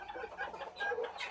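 A Belgian porcelain hen clucks in short, soft bursts close by while laying, a quick run of throaty calls with no other sounds.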